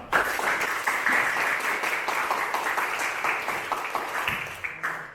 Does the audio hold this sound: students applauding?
yes